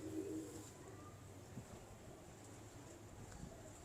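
A pigeon about five or six years old coos softly in a faint, distant murmur beneath a steady wash of wind and background hiss.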